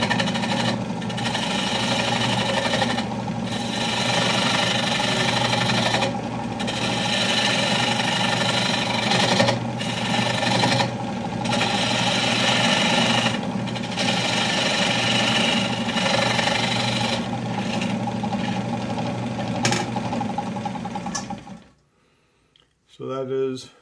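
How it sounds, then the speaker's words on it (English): Wood lathe running steadily while a tenon is turned on a bowl core with a detail gouge, a continuous motor hum with intermittent cutting bursts throughout, near and loud, stopping abruptly near the end. "I'm simply going to turn a lathe on."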